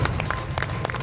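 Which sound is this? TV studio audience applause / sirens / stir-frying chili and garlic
TV studio audience applause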